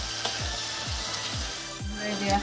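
Paneer butter masala being stirred and sautéed in a pan, a steady sizzle broken by several rhythmic scraping strokes of a spoon against the metal, close and clear with no talking.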